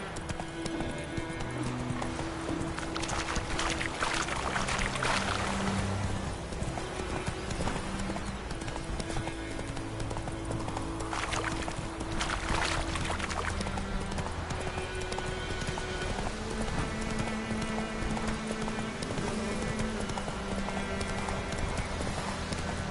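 Geralt's horse Roach gallops in Witcher 3 with a steady, continuous clip-clop of hooves running throughout, a brief whinny, and game music and ambience layered underneath.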